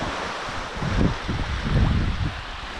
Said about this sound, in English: We see some waves breaking down there.